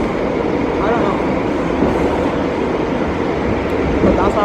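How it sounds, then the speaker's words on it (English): A local C subway train in New York runs loud and steady with continuous rumble and rail noise. There is some faint screeching, and the train remains close throughout. "This train is local."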